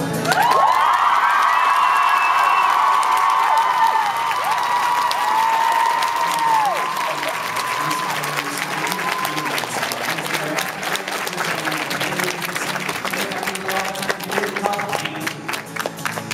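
A concert crowd in Glasgow cheers, whoops and claps loudly, the shouting and high screams fading into steady applause that keeps going.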